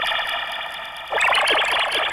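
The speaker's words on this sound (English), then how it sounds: "Then I've got kind of little bleepy sounds." Electronic bleeps soaked in heavy reverb and delay, a speed garage synth effect, build into a dense smeared wash of repeating tones that swells louder midway, with no voices.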